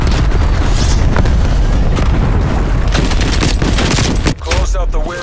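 An incoming missile explodes in Call of Duty: Black Ops Cold War, a loud, sustained roaring blast with rumbling debris and crackling bursts, briefly dipping before the rumble resumes; no voices are heard.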